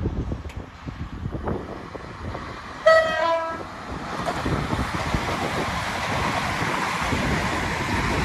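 A CrossCountry Voyager train races through a UK junction at high speed: a rising rush of wheel and air noise after a short horn blast, then a sustained loud roar as the carriages pass close by.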